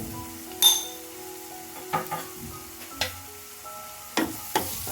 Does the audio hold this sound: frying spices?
yes